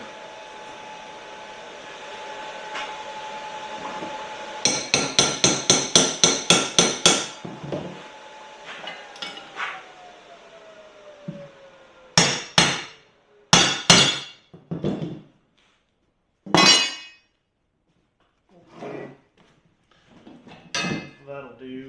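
Hammering with a broken hammer at a welding workbench: a rapid burst of about ten ringing metal strikes, then scattered pairs and single blows with pauses, over a low steady hum.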